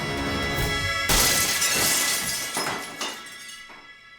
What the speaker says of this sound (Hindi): ये जीप का शीशा तूने तोड़ा?